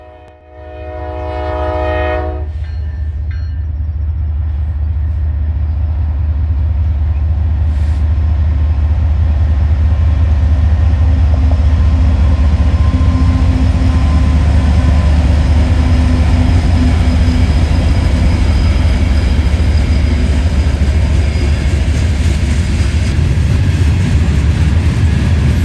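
A westbound Norfolk Southern freight train 179, on the NS Dayton District, sounds a brief horn blast, then rumbles past steadily and loudly into the siding at medium speed, a continuous close roar of wheels and cars with no voices.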